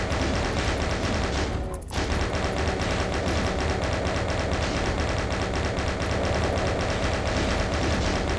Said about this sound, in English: But my chain gun says back up.